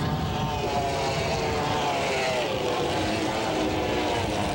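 Racing powerboats on the Grand River at Dunnville in 1994 roar past in a loud, continuous engine drone with a shifting pitch, steady and close throughout.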